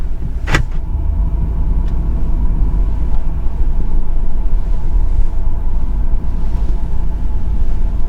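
A car driving out through deep snow after a heavy snowfall, not in four-wheel drive, giving a steady low engine rumble with crunching and rolling noise throughout, close and continuous, with a brief sharp squeak near the start.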